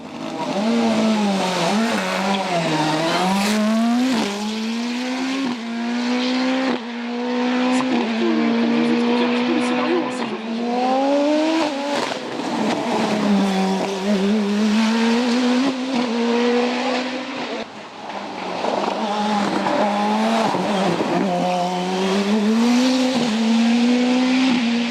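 A race car at the Turckheim hill climb: a loud, close engine revs up and down through repeated gear changes and throttle lifts, with continuous mechanical roar and slight tire noise throughout.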